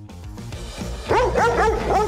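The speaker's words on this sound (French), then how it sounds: "il est où ce chien là maintenant?" A dog indoors gives a quick run of sharp barks and yips in the second half, close and fairly loud, after a quieter, muffled start.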